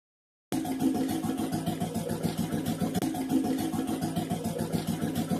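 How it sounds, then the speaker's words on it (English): A motorcycle engine idles steadily with a low, even throbbing rumble, close by and continuous, with no voices. "Motorcycle."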